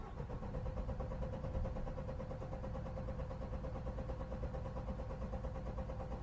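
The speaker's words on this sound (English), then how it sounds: "let me start the engine and try to show you exactly what it does" A Vauxhall Vivaro 2.0 CDTi diesel van with a hard-starting fault cranks steadily and continuously for several seconds, a rhythmic churning drone without catching, heard fairly faintly with no talk over it.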